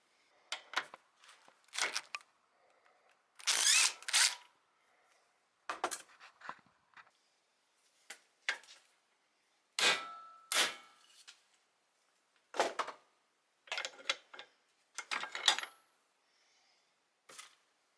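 Metal clicks and clanks from work on a ball joint nut of a Volvo 240, a series of sharp, separate taps and rattles in close, quiet bursts with pauses between, one longer scraping burst near the start.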